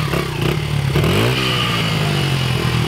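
A BMW engine revs hard while still warming up, its pitch climbing and holding at a loud, steady roar close by, with no talking.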